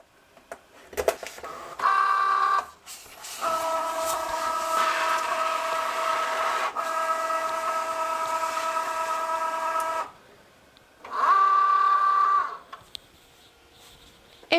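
A Cricut Joy cutting machine works through removable Smart Vinyl, giving a close whirring motor hum in three bursts, a long steady run in the middle with short ones before and after, separated by quiet pauses.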